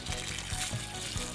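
Collected rainwater is poured out of a plastic rain gauge, a steady close splashing trickle that runs continuously for a moment, with no voices over it.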